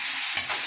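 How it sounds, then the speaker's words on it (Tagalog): Mung beans with mixed vegetables stirred in a frying pan, a brief soft sizzle with a quick scrape of the spoon midway, close and fairly quiet. "Haluin natin mga kaguro."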